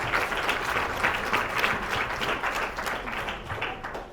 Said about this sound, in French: j'avais envie qu'on vous applaudisse pour ça.